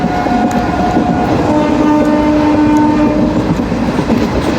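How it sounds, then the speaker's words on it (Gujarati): Rajkot–Veraval passenger train running through the small Kothariya railway station without stopping, heard loud and close from aboard: a heavy steady rumble and rattling wheels, with a sustained horn tone through the middle and no voices. "આપણી ટ્રેન સ્કીપ કરી રહી છે કોઠારિયા રેલવે સ્ટેશન."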